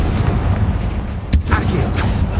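In the Hogwarts Legacy video game, a Confringo blasting spell goes off with a sudden sharp burst and boom over a dense, rumbling background, followed by softer debris-like crackles.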